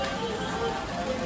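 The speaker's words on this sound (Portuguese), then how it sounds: "chovendo muito mesmo" Heavy rain pouring down at a beach holiday setting, a dense constant patter close by and uninterrupted.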